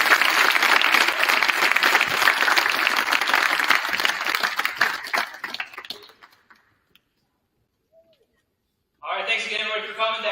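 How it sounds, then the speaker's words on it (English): Applause from the crowd at a National Signing Day ceremony, loud and sustained for about five seconds before tapering into silence, followed by a voice talking. "Let's give one last round of applause."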